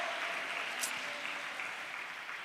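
A church congregation applauds on a festive evening, a steady dense wash of clapping filling the whole moment without pause.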